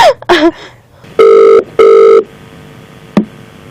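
A telephone ringing: two loud, even electronic rings in a row, preceded by a brief voice and followed by a click.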